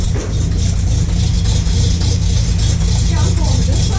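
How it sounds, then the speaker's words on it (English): A 1966 Chevy 4x4 truck engine runs loud and steady with a deep, rumbling low-end drone throughout, revving slightly without sharp peaks, nearby and continuous. "Let me give it some gas before we plug the thing out."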